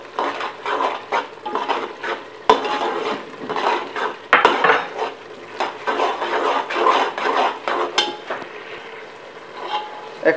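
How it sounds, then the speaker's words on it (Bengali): Vegetables tip into a cooking pan and are stirred, with loud scraping and clattering of a utensil against metal in irregular strokes, plus a few sharp knocks. "এখন সবজিগুলো ঢেলে দিচ্ছি।"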